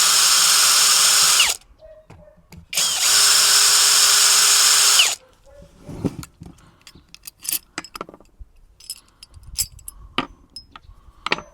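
A power tool whirs in two loud sustained bursts while unscrewing the carburetor of a Chinese chainsaw, followed by scattered metallic clicks and clinks of handling parts.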